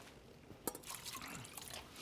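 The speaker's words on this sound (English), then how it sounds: "And then we're just going to drain all the liquid out." Water drains and drips from a pot of blanched green beans just cooled in cold water, a soft trickle with a few sharper splashes, quiet and close, no talking.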